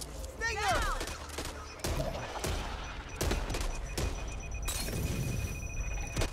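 Gunfire in the zombie shooter Back 4 Blood, a string of sharp separate shots and short bursts spread across the clip, loud and close, over a busy game soundscape.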